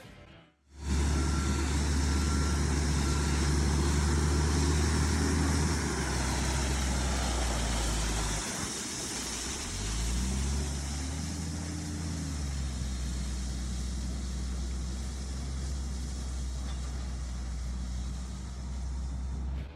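Dump truck driving in reverse while spreading gravel from its raised bed to build a gravel road, a loud steady diesel drone with a brief dip midway and a rising, shifting engine pitch afterward, no voices.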